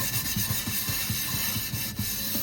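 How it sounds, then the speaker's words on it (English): Back-and-forth scrubbing on the bottom of a rusty EWSLLC kitchenware piece, a quick run of rhythmic rubbing strokes, close and steady, with no voices. "So basically going back and forth in and out again, scrubbing the bottom"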